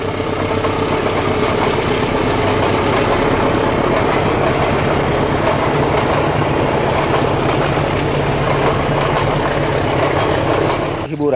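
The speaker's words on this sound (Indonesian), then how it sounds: "Nah, ini keretanya, Bro. Kereta dari arah Cibatu." A train rumbles past at close range, a loud continuous roar of engine and rolling wagons that holds steady throughout.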